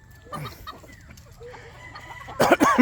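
An Onigadori breeder chicken clucks in scattered short calls, with a louder burst of squawking clucks at the end, close by on a farm.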